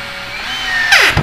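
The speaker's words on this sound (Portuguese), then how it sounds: "Basta posicionar no local e parafusar." A 3.5 by 30 millimetre screw is driven into the frame of a homemade CNC machine with a power drill, one short close whine that rises in pitch and ends abruptly as the screw seats.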